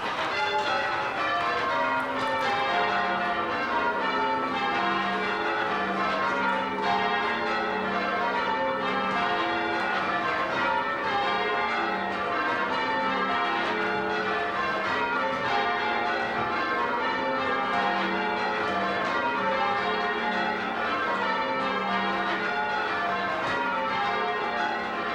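English church bells ring continuously for about twenty-five seconds, loud and close, with overlapping pealing tones and no voices.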